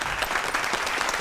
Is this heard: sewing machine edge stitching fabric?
no